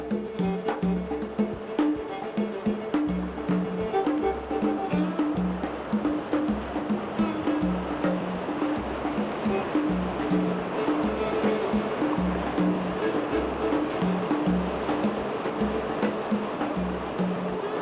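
Whitewater rapids in the Grand Canyon roar continuously, a loud, unbroken rush of churning river water with recurring low surges beneath it.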